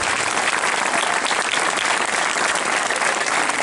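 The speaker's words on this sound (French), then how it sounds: "un tonnerre d'applaudissements," Loud, dense applause from an audience at a tribute event for a champions' race, continuous and steady throughout with no break.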